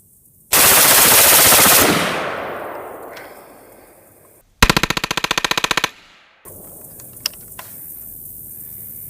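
AR-15 rifle fitted with an LARB buffer and standard-style bumper, fired during a field test: one long loud burst of automatic fire that fades, then a sharp rapid string of distinct shots, a pause, and a few quieter mechanical clicks and clanks.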